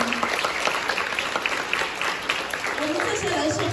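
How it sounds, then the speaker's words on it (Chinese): An audience at a product event gives applause for Dr. Lin, dense continuous clapping from a sizeable crowd, fairly loud and steady throughout, with a voice speaking over it near the end. "各位，要不要给林博士掌声？"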